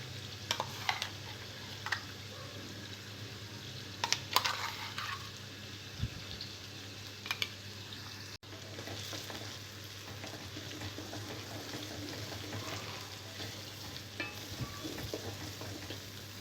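Masala-stuffed brinjals for gutti vankaya fry in a pan with a low, steady sizzle and occasional clinks and scrapes of a stirring spoon, quiet and close, with no one talking.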